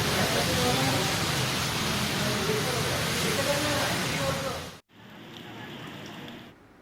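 Steady, dense hiss of rain falling in Hyderabad that cuts off abruptly, replaced by a quieter muffled background.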